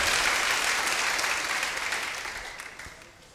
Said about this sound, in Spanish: démosle un aplauso al Señor fuerte